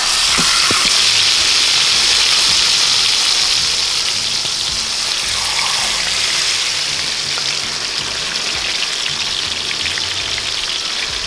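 Chickens fry in butter in a very hot pan, giving a loud, continuous hissing sizzle that holds steady throughout with faint crackles and no talk.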